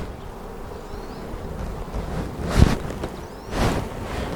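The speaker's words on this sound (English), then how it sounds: "there's a lot of bees in here." Honeybees in an open hive make a dense, continuous buzz close by, with louder swells as the frames are disturbed.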